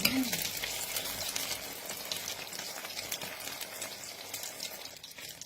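Egg-dipped long eggplant frying in hot oil, a steady close sizzle and crackle that continues without a break, with no voices.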